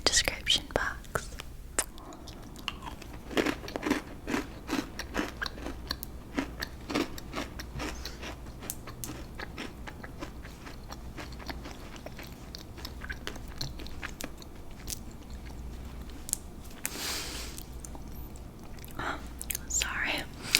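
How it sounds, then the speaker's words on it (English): Homemade oatmeal cookies being munched close to the microphone, a steady run of soft crunchy bites and chewing clicks over about twenty seconds, intimate and fairly quiet with a faint whisper at times. "I was just having some homemade oatmeal cookies."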